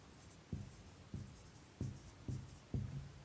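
Pen or chalk strokes in a Class 8 maths lesson, writing out a geometry problem by hand: five short, fairly faint scratching marks spaced roughly evenly, with no talk over them.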